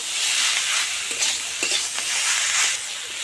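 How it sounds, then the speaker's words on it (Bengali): A potato and coriander filling stirred in a hot pan, a dense steady sizzle with repeated scraping strokes of a spatula, close and loud, no voices. "ভালো করে আমি পুরটা নেড়ে চেড়ে বানিয়ে নেব এইভাবে"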